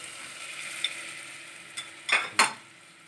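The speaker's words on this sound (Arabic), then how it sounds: "السمنه ساحت، حط عليها الدقيق" Flour is stirred into melted ghee in a pot for seafood soup, giving a soft, quiet sizzle broken by a few short scraping clinks of a utensil against the pot.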